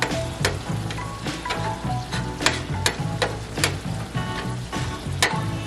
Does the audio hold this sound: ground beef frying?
yes